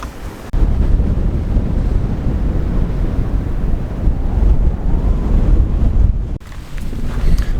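Strong wind in Joshua Tree National Park buffets the microphone in a loud, continuous blustery roar with gusty swells, briefly dropping near the start and again near the end.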